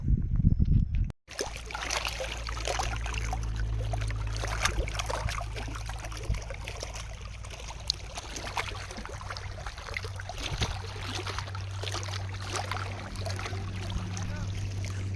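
Water flows steadily outdoors in a quiet spot, a continuous rushing and trickling wash after a brief opening moment, with a low steady hum underneath.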